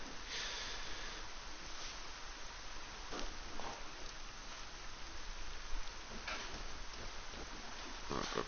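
Steady rain falling outdoors, a continuous soft hiss with scattered drop ticks, faint and without speech.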